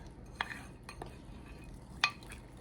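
Icing sugar flavored with almond extract being stirred with a splash of milk, giving soft stirring and a couple of sharp spoon clinks against the bowl, close and fairly quiet, with no voices.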